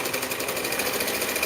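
A sewing machine stitches a shade sail, its needle hammering in a fast, steady, continuous rhythm that holds evenly throughout at close range.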